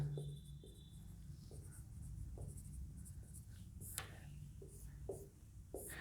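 A pen scratches figures onto paper or a board in a series of short, close strokes and taps over a steady low background hum, with no one talking.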